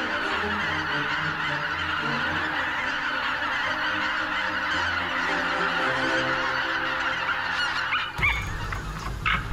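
A dense, steady chorus of many geese honking at once, loud and continuous, like a huge flock heard from nearby.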